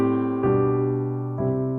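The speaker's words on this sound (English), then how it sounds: "in gospel and a lot of country music, you're going to have these things called walk-ups that sound like this." Gospel-style piano walk-up: a few sustained chords stepping upward, each new chord struck clearly about a second apart with ringing overtones, close and alone.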